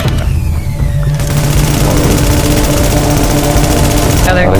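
Rapid automatic gunfire rattles loudly and continuously in The Division shooter game, layered with dense game effects and a mechanical whine.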